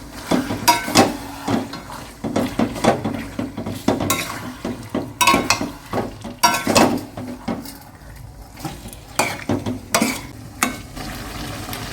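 Chicken being stirred with coriander powder and yogurt in a hot pot for South Indian chicken biryani, a spoon scraping and clanking in irregular strokes over a steady sizzle, close and fairly loud, with no talking.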